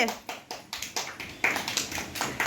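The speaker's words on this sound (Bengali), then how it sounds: "হাততালি দাও হাততালি" Small children clap their hands in a quick, uneven run of bright slaps during a celebration, with voices talking over the clapping.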